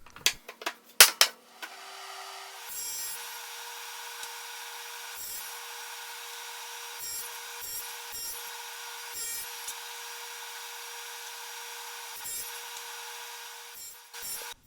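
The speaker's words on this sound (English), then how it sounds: "installed my Amana Tool Prestige Series dado stack to cut 1/4 inch dados" A table saw fitted with an Amana Tool Prestige Series dado stack cuts 1/4 inch dados for box joints, a steady loud whine running on with brief dips between passes, after a few knocks at the start.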